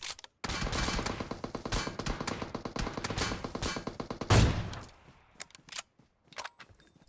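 DP machine gun firing in PUBG Mobile: a long, rapid, loud burst of automatic fire, followed by a louder blast and a few scattered single shots fading into quieter game ambience.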